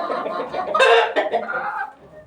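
Chickens, including broilers, cluck and squawk close by in an agitated burst, several birds calling over one another.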